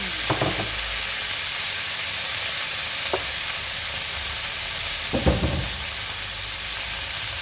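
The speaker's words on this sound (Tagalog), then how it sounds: "Tapos ilagay na natin ang half cook na chicken." Half-cooked chicken sizzles steadily in a hot pan for chicken curry, a loud continuous frying hiss with a few sharp stirring scrapes, with no talking.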